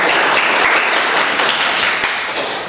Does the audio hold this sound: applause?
yes